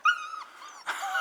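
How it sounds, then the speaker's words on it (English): A small dog out with bigger dogs gives a high, thin whimpering whine, then breaks into a short, rougher yelp at the end, close and fairly clear. "look at little Miss Hella out there with the big dogs"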